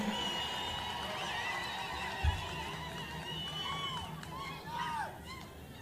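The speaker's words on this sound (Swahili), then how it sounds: "Tuendelee na shangwe na vigelegele," A crowd at Eldoret Sports Club celebrates as Eldoret is commissioned a city, with high wavering ululation trills rising and falling over a constant murmur of cheering, heard at a distance and continuing steadily.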